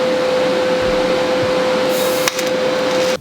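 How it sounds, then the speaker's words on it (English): A tack weld on a motorcycle solo seat suspension link for a Honda Grom gives a steady, loud crackling buzz with a sharp burst near the end. No one speaks. "now I've got to get this guy here and weld that on the end"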